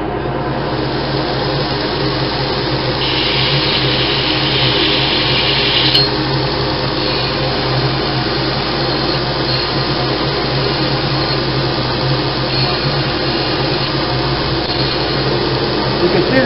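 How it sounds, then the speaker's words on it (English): A grinder works steadily on a forged tomahawk head, a continuous loud whirring grind lasting throughout with no breaks. "Okay, we're going to finish up our grind."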